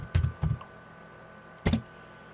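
A few sharp keystrokes on a computer keyboard as a title is typed into a text box, two quick pairs of clicks close together, a pause, then one more short burst, close and fairly quiet.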